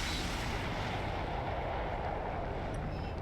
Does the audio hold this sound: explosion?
yes